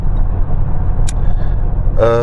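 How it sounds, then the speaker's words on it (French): Steady low road rumble heard from inside a moving car, constant and fairly loud throughout, with a brief higher tone near the middle and a short harmonic sound at the end. "Désolé pour le bruit de fond, je suis en voiture"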